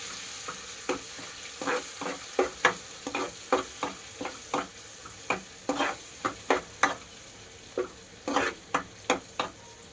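Red chilli powder being stirred into a banana curry frying in oil, a steady run of close, sharp spoon scrapes and taps over a soft sizzle, with no talking.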